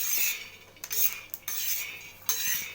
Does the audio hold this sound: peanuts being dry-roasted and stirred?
yes